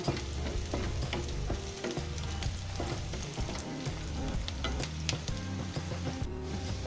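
Garlic sizzles and fries steadily in a hot pan for Bicol Express, a dense continuous crackle with occasional stirring scrapes, close and loud with no talking.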